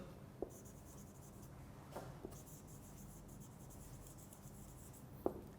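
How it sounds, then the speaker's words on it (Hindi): A sentence being handwritten during an English lecture, faint scratching strokes with a few sharper taps, quiet and close with no talking. "एक जुमला लिखता हूँ"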